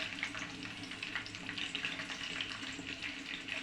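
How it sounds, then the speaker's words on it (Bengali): Onions, about a cup, frying in a pan for chicken rezala, giving a steady close sizzle with faint stirring and no talking. "একটু ভেজে নিই। আমি 1 কাপ পেঁয়াজ দিয়েছি।"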